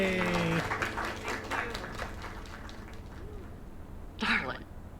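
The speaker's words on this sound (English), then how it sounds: "Another round of applause." Applause in the video game Lake rises as a steady patter of clapping for about three seconds and then fades, with a voice speaking over and after it.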